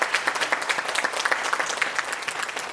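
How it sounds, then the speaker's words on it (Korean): Brisk, loud applause from the audience at a Korean art song concert, a rapid and steady patter of many hands clapping throughout, without voices. "박수 보내주세요."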